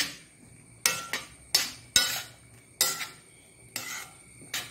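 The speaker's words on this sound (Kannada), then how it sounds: "ಇದನ್ನು ತಿರುಗಿಸುವಾಗ ಸ್ವಲ್ಪ ಜಾಗ್ರತೆಯಲ್ಲಿ ತಿರುಗಿಸ್ಕೊಳ್ಬೇಕು ನೋಡಿ" A spoon stirs a thick Tulunadu-style tetla batter in a pot, with about eight sharp scraping knocks against the metal at an uneven pace.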